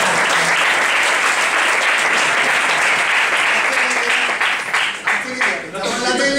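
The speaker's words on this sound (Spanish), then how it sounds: "Un aplauso" An audience at a round-table panel on the aesthetics of a Holy Week brotherhood breaks into sustained, loud applause that fills the hall, tapering slightly near the end.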